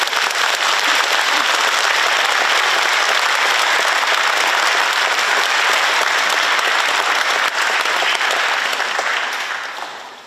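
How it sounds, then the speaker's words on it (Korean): An audience at a Monday prayer meeting honouring victims of the Itaewon disaster claps in a dense, loud burst of applause that holds steady for about ten seconds before tapering off at the end. "많은 박수 부탁드립니다."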